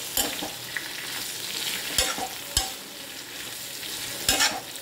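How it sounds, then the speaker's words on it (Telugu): Onions and green chillies fry in hot oil for a spicy tomato chutney, giving a steady close sizzle broken by occasional stirring knocks of a spoon against the pan. "ఆనియన్స్ గ్రీన్ చిల్లీ అండి, ఆయిల్ వేసి వేయించుకోవాలి."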